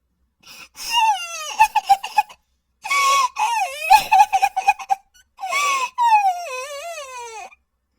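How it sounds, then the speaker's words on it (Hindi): Animated-style crying in a forest, a high wavering voice sobbing and whimpering in three bursts with short pauses between them, fairly close and clear with no other sounds. "उसे रोने की आवाज आती है"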